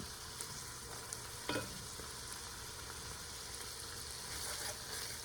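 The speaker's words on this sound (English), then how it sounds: "Now I'm going to add the garlic, but only cook it for about a minute." Garlic sizzles with vegetables and ground meat in a pan for a meat sauce, a soft, continuous frying hiss with an occasional faint stirring clink.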